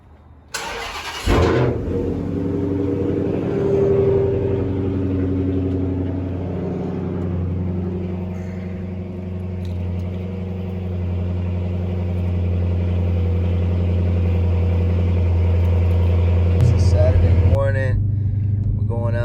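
A JDM car engine starts up before a car meet: after a brief crank it catches with a sharp burst, then settles into a steady, deep idle for the rest of the time, close by and alone.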